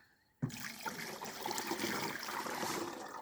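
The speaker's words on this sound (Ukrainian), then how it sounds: "Виливаємо його в бачок." Dissolved urea solution is poured into a sprayer tank for treating apricot trees, starting abruptly as a close, steady gush and splash of liquid that continues to the end, with no talking.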